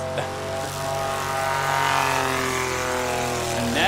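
A light propeller aircraft with a water-cooled engine hums loudly and steadily nearby at a STOL practice event at Music City Executive Airport, its tone rising slightly midway, with no talk.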